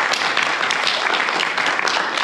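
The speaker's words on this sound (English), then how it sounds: "Let's applaud." A church congregation applauds to welcome new members, a steady burst of dense clapping that fills the space for a couple of seconds.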